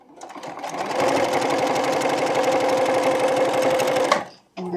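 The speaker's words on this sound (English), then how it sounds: "I'm going to pull this off of here, and we're going to sew on the other side." A sewing machine runs in one fast, continuous burst stitching a seam on a quilt block, rising quickly to a steady whirring hum, then stopping abruptly before a brief thump and a renewed rumble.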